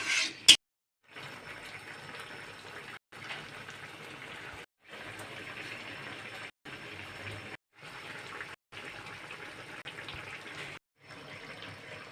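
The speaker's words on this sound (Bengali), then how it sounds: "এখন আমি দিয়ে দেবো অল্প জল" Water pours in several steady bursts with brief pauses into okra cooked in mustard paste, a soft, continuous gush at moderate distance.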